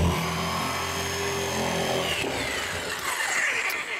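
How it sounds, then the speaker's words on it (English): A 3-inch hole saw on a power drill cuts through a wooden floor during a shower pan install, a loud, steady whining grind that shifts pitch partway as the blade bites, with no talking. "consider getting a hole saw, like a 3-inch, okay? And drill from the tops"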